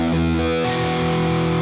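Sustained electric guitar chords through heavy distortion in a slow rock style, one dense ringing chord shifting to another partway through, loud and close with no talking.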